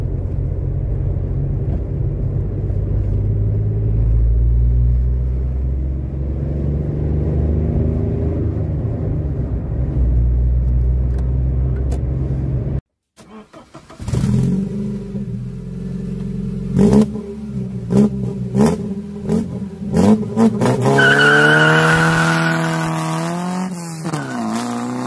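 A Volkswagen 1.4 TDI diesel car idles with a steady low rumble, then after a brief cut pulls away hard, the engine revving up through the turbo range in repeated rising sweeps as gears are shifted quickly.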